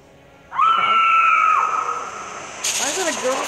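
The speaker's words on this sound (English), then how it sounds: "It's just a vulture." A vulture in the video game Six-Guns: Gang Showdown lets out a long, shrill screech that sounds like a woman screaming, loud and sustained for about a second, then trailing off, followed by a second wavering cry.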